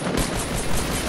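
Gunfire in a Fortnite match, with several rapid sharp shots packed into about a second, loud and close with no talking.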